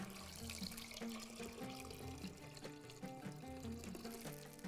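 Water is drained off soaking rice while preparing Bahraini machboos, a continuous close trickle and pour like a running tap into a sink, steady and gurgling throughout with no talking.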